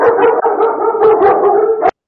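A large dog gives a loud, sustained howling bark close by, one long drawn-out call with a brief break partway and a second surge before it cuts off abruptly.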